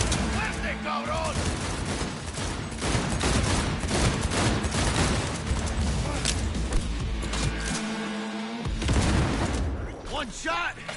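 Heavy automatic gunfire in the open-world shooter Cyberpunk 2077, dense rapid bursts with booming impacts throughout, mixed with shouting voices and a brief lull before the firing resumes.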